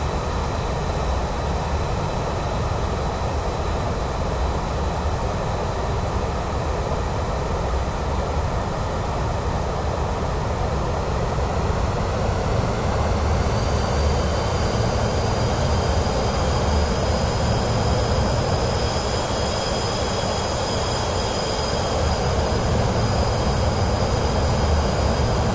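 A steady, loud engine roar and rushing wind fill the cockpit as an airplane makes a rough landing approach over Switzerland in Microsoft Flight Simulator 2024. A faint tonal whine joins partway through and the drone never lets up.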